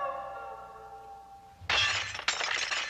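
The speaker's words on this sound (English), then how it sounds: "Something crashing through the skylight?" Glass skylight shattering as someone crashes through in a 1989 Spider-Man film, a sudden loud smash followed by a second burst of breaking, tinkling glass after a quiet tonal passage.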